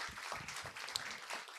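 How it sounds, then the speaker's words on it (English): Faint applause from an audience at a ceremony celebrating women in Indian aviation, a soft, distant patter of many hands clapping. "So a big round of applause"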